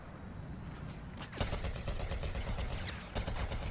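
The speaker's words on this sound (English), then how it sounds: "Alright, they're shooting us" Enemy blaster fire in a Star Wars Battlefront match on Scarif, heard as rapid, crackling bursts of shots. Sharp louder volleys hit around the middle and near the end over a steady background of battle noise.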